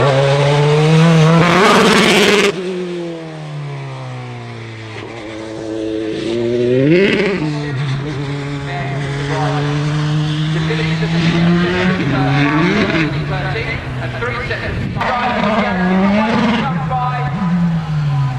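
Formula 3 race cars with 2-litre engines scream loudly, rising and falling in pitch as they rev and shift gears while speeding past, with a voice talking over them.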